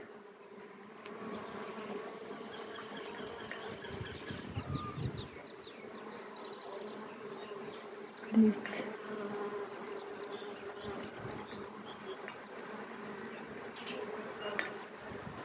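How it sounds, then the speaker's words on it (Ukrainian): Honeybees buzzing around blossoming fruit trees outdoors, a continuous even hum from many insects, with occasional birdsong and a brief spoken word. "Ви тільки послухайте, як тут гудуть бджілки."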